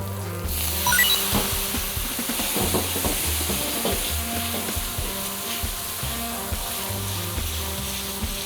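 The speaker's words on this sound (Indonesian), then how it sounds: "Ini kita masak dulu bumbunya." Spice paste sizzles and crackles in a hot pan, with occasional clinks and scraping of stirring throughout.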